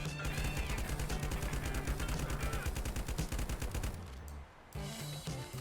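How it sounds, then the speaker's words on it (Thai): A powerful gun fires in a shooting video game, a rapid, evenly spaced automatic burst of loud shots that runs for about four seconds, pauses briefly, then resumes. "ปืนอะไรวะ โคตรแรงเลย"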